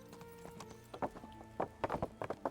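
Horse hooves clip-clopping in the video game Kingdom Come: Deliverance, a sparse sequence of hoof strikes that grows denser and more regular toward the end, over a quiet tonal game background with no voices.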